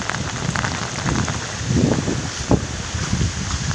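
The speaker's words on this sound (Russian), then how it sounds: "ураган сейчас ломает ветки." Heavy tropical rain from Typhoon Lingling in Komsomolsk-on-Amur, a dense, loud, steady downpour with wind and spattering drops on surfaces.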